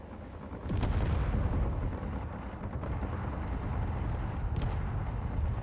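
A gunship launching missiles in Space Engineers, a sudden heavy whoosh that swells into a sustained low roaring rumble, loud and continuous, with a second faint launch crack partway through.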